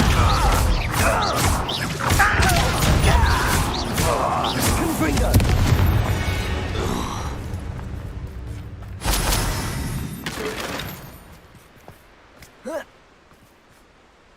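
A Bombarda blasting spell explodes in Hogwarts Legacy, heavy booms and crashing debris over game sounds and spoken lines, then fading to a few isolated impacts.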